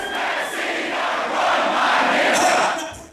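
A large concert crowd screams and chants together, a loud roar of many voices that swells in the middle and fades toward the end.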